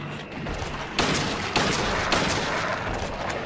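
Gunfire in the survival horror game Silent Hill 2, a few sharp shots standing out from a dense, steady wash of in-game noise and tension.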